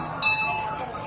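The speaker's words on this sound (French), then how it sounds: "Oh, la cloche." A bell gives a single bright clink-like strike amid a noisy festive crowd, with a short ringing decay under the background chatter.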